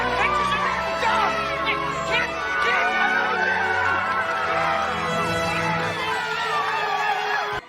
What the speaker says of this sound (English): Will somebody suppress that crowd?